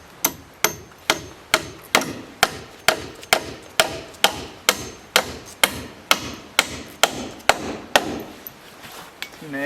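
Nails hammered into a wooden deck block during the framing of an A-frame cabin deck, about twenty sharp, evenly paced hammer strikes ringing close and loud.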